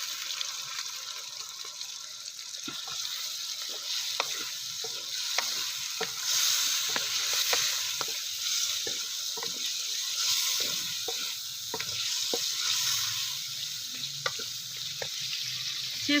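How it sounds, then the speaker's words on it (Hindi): Desi chicken frying in a pot with a little added water, a continuous close sizzle broken by repeated sharp scrapes and clacks of a stirring spoon at an uneven rhythm. "छः 7 मिनट हम मज़ीद चिकन की भुनाई कर लेंगे।"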